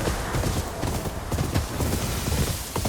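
Horse hooves gallop in a steady fast rhythm in the video game Ghost of Yotei, loud and close, with a continuous rumble and clatter throughout and no speech.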